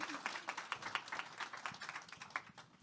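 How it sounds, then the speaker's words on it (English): Faint applause from an audience after a panel at a music trade show, a quick scattered patter of individual claps, distant and low in level. "Give them a round of applause."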